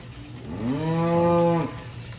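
A single loud, close cow moo, rising and held for about a second, comes from cattle in a pen, with faint barn background noise around it.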